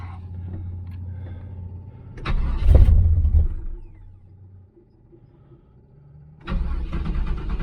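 A 1981 Chevrolet Camaro Z28 V8 with no choke hooked up, parked on an 82-degree day, cranks and briefly roars, then falls back to a low rumble; a second loud burst of cranking follows near the end.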